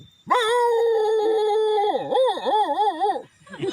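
A voice imitates a village dog crying and howling, one long sustained wail that breaks into wavering, sobbing howls, close and loud with nothing else heard.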